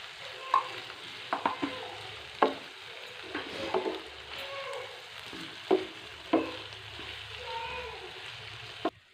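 Potatoes, tomatoes and spices being stirred in a sizzling pan, a utensil scraping and tapping the pan in irregular strokes over a steady frying hiss, close and fairly quiet.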